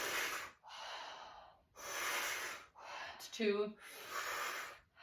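Deep, slow breaths during a squatting fascia stretch: several long, close, airy inhales and exhales in a steady rhythm, with a brief voice in between.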